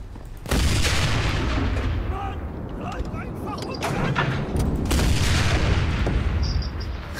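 A 75-caliber tank cannon fires in the World War II shooter Enlisted, heavy booms rolling into a dense rumble of battle noise that stays loud and continuous, with voices partly buried underneath.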